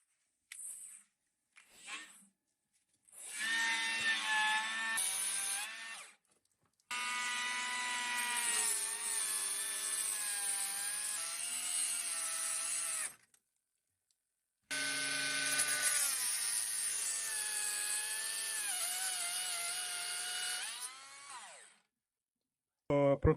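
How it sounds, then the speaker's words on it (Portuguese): An angle grinder fitted with a cutting disc cuts through plumbing pipe in an old abandoned stone cabin, a loud high whine in two long bursts separated by silence, with brief sounds before. "E vamos para a esmerilhadeira com disco de corte."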